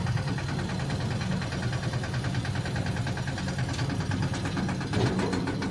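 Close and steady, a tractor engine idles and chugs with a low, even rumble and a faint rhythmic knock throughout, heard on the way to village farm work.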